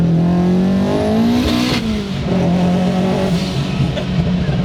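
Turbocharged Scion FR-S with a big turbo, an engine pulling hard as power comes on, its pitch sweeping upward then holding loud and close, with a brief whine and no talking.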